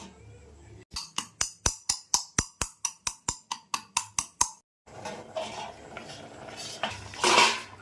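A lid goes onto a pot of fish curry with a run of about fifteen sharp, evenly spaced metallic clinks, then a brief pause and a busier rattle and clatter of cookware in a home kitchen.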